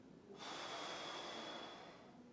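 One slow, controlled exhale through the nose or mouth during a breathing exercise, close and fairly soft, a breathy rush lasting about two seconds.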